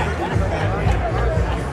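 Crowd chatter at a Ghostbusters Day street festival in New York City after heavy rain, a steady dense murmur of many voices close around with no single speaker standing out.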